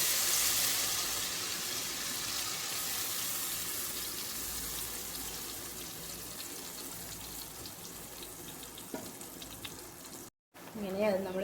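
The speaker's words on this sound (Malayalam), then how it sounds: "ഇനി നമുക്ക് കലക്കി വെച്ചിരിക്കുന്ന പൊടി കുറേശ്ശെ ഇതുപോലെ ഒഴിച്ചു കൊടുത്ത് വറുത്തെടുക്കാം." Gram flour batter poured into hot oil and fried for laddu, a loud hiss that slowly settles into a steady sizzle, briefly interrupted near the end.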